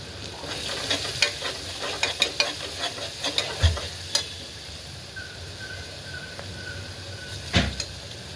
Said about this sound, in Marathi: आपलं छान असं गरम होतं आता आपण कढीपत्ता टाकून घेऊया